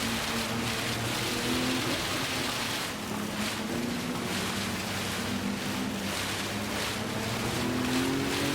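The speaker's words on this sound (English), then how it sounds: "It's still pouring rain." Heavy rain hisses in a steady broadband wash during a race in Gran Turismo 7, mixed with a low, droning car engine, constant and unbroken with no talking.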